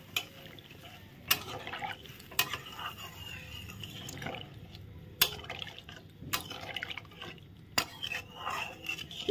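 Spiced curry liquid for a banana flower (mocha) dish bubbles in a pan on the stove, a steady wet simmer broken by several sharp clinks of a spoon against the pan.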